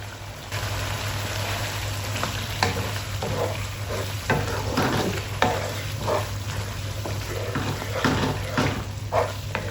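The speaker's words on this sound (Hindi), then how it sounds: "अब मैं तेज़ आंच पे पालक की भुनाई करूँगी।" Spinach tossed into masala over high heat in a pan for an egg and spinach dish gives off a steady, close sizzle with repeated scraping stirs and soft clatters throughout, with no voices.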